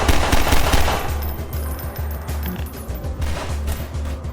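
Rapid automatic gunfire from the Half-Life 2 VR video game, a dense, loud stream of shots rattling on steadily for several seconds with brief uneven gaps.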